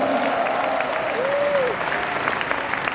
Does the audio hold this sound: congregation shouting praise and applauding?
yes